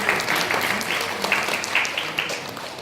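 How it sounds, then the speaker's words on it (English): Audience applause after a Kuchipudi dance performance fills the hall, a dense continuous wash of many hands clapping at moderate distance with a few louder claps and faint voices mixed in. "So, another round of applause for that one,"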